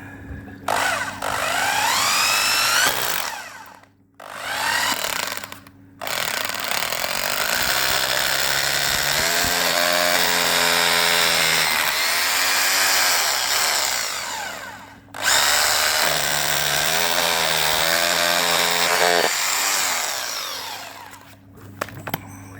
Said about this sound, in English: and we're gonna drill it